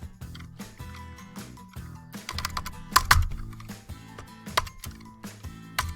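Typing CSS code on a computer keyboard, with an uneven run of close, crisp key clicks and occasional heavier thumps, the shift key held for a curly bracket, no talking over it.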